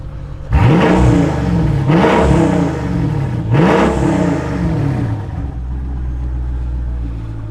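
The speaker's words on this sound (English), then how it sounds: "Okay, let's give it a couple of revs." A Mercedes-AMG SL63-badged engine with AMG exhausts revs hard three times in quick succession, each blip rising and falling, then settles into a low idle burble.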